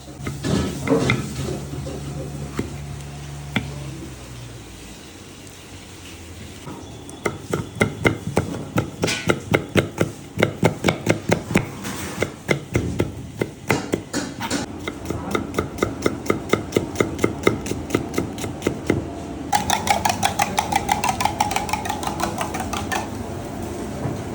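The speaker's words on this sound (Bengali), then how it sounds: "আমি প্রথমে ক্যাপসিকামটা কেটে নিচ্ছি" A kitchen knife chops capsicum on a board for mixed fried rice. Rapid, steady knife strikes come in long rhythmic runs after a quieter start, each blow close and crisp.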